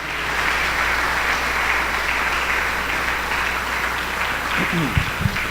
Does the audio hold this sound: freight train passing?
no